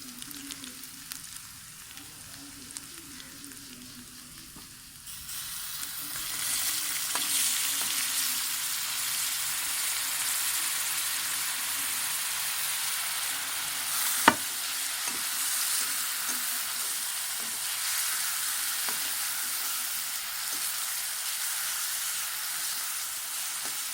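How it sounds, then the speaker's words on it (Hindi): Green chillies and tomatoes drop into a ginger-garlic gravy, and a quiet pan gives way to a loud, steady frying hiss, broken by one sharp clink, with no voices. "अब हम इसमें डालेंगे हरी मिर्च और टमाटर।"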